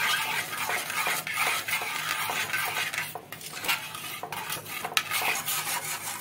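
A spoon scraping and clinking against a pan while milk is stirred into a chicken mixture with the stove off, repeated rhythmic metallic strokes over a soft wet swish, close and fairly loud, with no talk.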